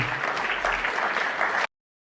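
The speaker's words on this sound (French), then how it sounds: "Regardez comment il applaudit." Dense, steady applause fills the French National Assembly chamber, many hands clapping loudly and close for under two seconds before cutting off abruptly.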